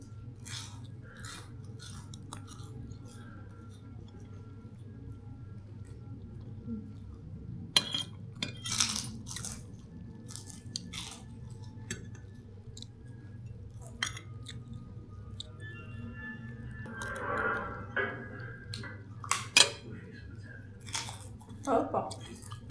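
Someone eats nasi goreng Padang with sambal at a restaurant in Kuala Lumpur, with quiet chewing, clinks and scrapes of cutlery on a plate under a low hum and occasional soft talk nearby.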